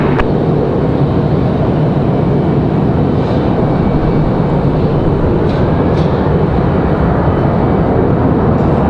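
A Republic Airways airliner takes off at Raleigh Durham airport with a loud, steady jet roar that holds for the whole stretch, close and without any break.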